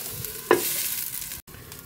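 Butter garlic shrimp sauce bubbles in a covered pot, a soft steady sizzle and simmer with a brief clink near the start and a short break in the sound toward the end.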